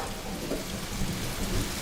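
Steady, close rain falls in a continuous dense hiss and patter, even and unbroken, with no voices.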